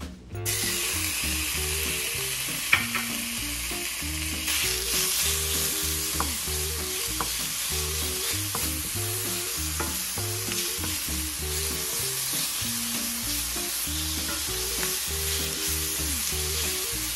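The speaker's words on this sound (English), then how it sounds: "bacon sizzling in a pan on top of the stove is one of them" Bacon sizzles steadily in a hot cast iron skillet, a loud continuous hiss with crackling pops throughout.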